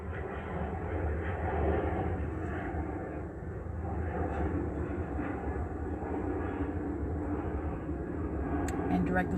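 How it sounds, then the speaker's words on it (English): A steady, low droning roar of airplane engines, continuous and even throughout, heard muffled from inside a car. "the sound of the plane engines inside of the car"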